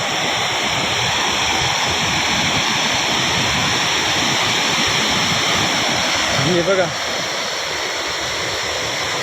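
Steady loud roar of water rushing from the overflow gate of Bhandardara dam, broad and continuous throughout, with a brief spoken voice close by over the torrent.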